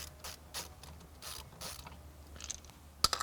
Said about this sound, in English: Again, just unscrew it, nothing complicated here.